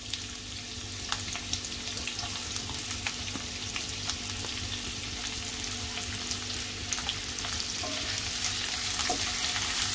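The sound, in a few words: onion frying in hot oil, stir-fried quickly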